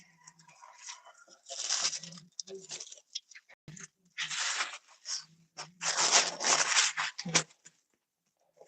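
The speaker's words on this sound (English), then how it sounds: "using the rotary cutter to cut the pattern pieces out" A rotary cutter slices out fabric pattern pieces for a sewn suit, giving close, crisp, crunchy rolling cuts in several bursts of varying length, separated by short pauses and soft handling clicks.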